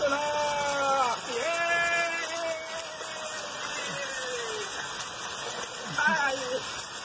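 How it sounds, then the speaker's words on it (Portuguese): Rain and water gush from a spout at a rural site near São Vicente, Rio Grande do Norte, Brazil. The steady rushing wash continues throughout while someone speaks excitedly over it. "Ai, olha a chuva! A bica hoje está muito boa!"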